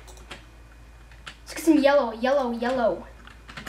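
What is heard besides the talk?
computer keyboard typing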